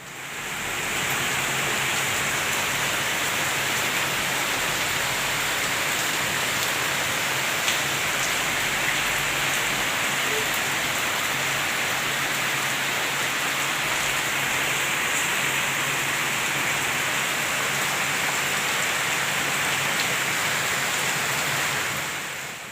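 Steady, dense monsoon rainfall hisses evenly throughout, a constant loud wash of noise with no voices.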